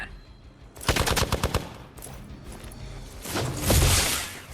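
Rapid burst of automatic gunfire in the video game Midnight Suns, a tight string of sharp shots near the start, followed by a louder whooshing blast toward the end.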